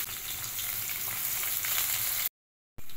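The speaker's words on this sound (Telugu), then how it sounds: "ఆ తర్వాత ఆనియన్ ముక్కలు వేసుకోవాలి." Onion pieces, with green chilli, frying in oil seasoned with mustard seeds and cumin while a bottle gourd and spinach dish is cooked, giving a steady loud sizzle that cuts out abruptly near the end and returns briefly.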